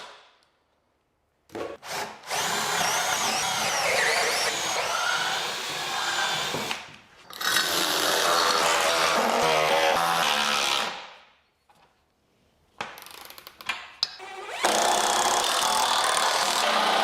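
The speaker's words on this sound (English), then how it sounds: "Now let's glue them in place and then screw them for clampage." Power drill driving screws through wooden side panels of a shop-built cart, long whirring and grinding bursts of a few seconds each separated by brief pauses, close and loud with no voices.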